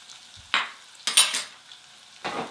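Ground coriander being stirred into a pumpkin soup base in a pan, heard as three short scraping bursts of a utensil against the pan with quiet gaps between them.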